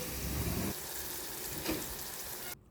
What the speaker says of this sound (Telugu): మనం ఫ్రై చేసుకున్న ఆనియన్స్లో గ్రైండ్ చేసిన పేస్ట్ వేయాలి